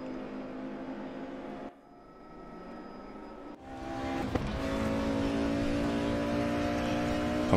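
A Mercedes-AMG race car's engine drones steadily on track in RaceRoom racing game, dipping briefly as it shifts, then climbing again into a loud, sustained high-revving whine.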